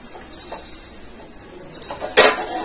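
A perforated metal spoon knocks against a metal pan in a kitchen, giving a few light clinks and then one sharper, ringing clatter near the end, with no talking.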